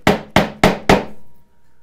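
A mallet strikes a chisel into wood four times in an even rhythm while cutting a mitered bridle joint, each blow close and loud, followed by a short ringing fade.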